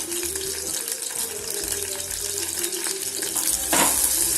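Onions frying in hot oil in a pan while cooking dondalayi fry, a steady close sizzle with a louder burst of crackling near the end, no voices.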